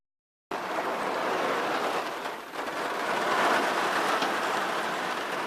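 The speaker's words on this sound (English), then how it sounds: "I wonder if the audio on this is going to be very good. With all the rain." Rain falling steadily outdoors during an August recording, a dense, continuous hiss close to the microphone with no pauses, briefly dipping once before returning at full strength.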